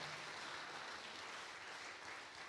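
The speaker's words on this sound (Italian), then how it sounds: "date un applauso a Gesù perché questa è una grande speranza" A faint, even wash of congregational applause during a Sunday gospel service in a church, holding steady for the whole clip with no talking over it.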